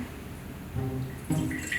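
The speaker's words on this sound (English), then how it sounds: "we are going to fill our mason jar halfway full with our water" Water pouring into a glass mason jar to fill it halfway, with a soft trickling splash that grows louder and brighter as the stream strikes, close up and alone.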